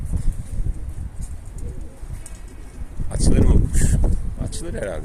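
A pigeon coos close by outdoors, soft low calls that swell louder near the end, while someone speaks casually over them.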